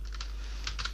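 Computer keyboard typing code for billing software, a short burst of quick, close key clicks in two small clusters with no talking.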